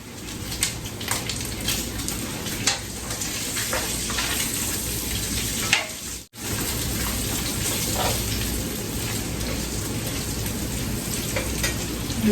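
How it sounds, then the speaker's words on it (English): Bacon fries in a pan, a steady dense crackling sizzle with scattered sharp pops, close and continuous apart from a brief cut partway through, with no talking. "this is how your girl cook bacon"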